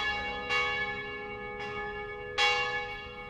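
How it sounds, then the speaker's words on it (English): Church bells ringing at a Trappist monastery to call the monks to prayer, three distinct strikes with long sustained ringing tones that overlap and fade between them, moderately loud and without any talk. "all work stops when the bells call the brothers to prayer"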